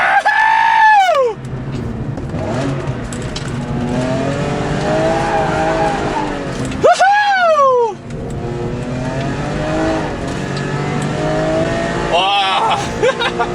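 A high-revving 340-horsepower S54 straight-six engine in a manual BMW E46 M3 howls under hard acceleration, pitch climbing and dropping with quick gear changes, loud and close throughout.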